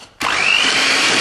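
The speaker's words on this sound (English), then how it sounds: "Whisk it up," An electric hand whisk starts abruptly and runs at a steady high whir, mixing lemon filling close up for about a second with no talk.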